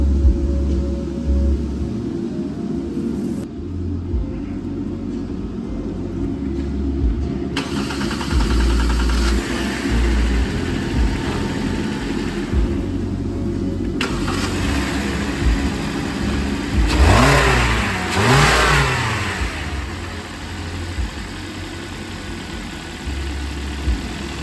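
A 2016-2019 Kia Optima engine cranks and starts after a valve cover gasket replacement, then settles into a steady idle with a couple of light revs, heard close up with no talking.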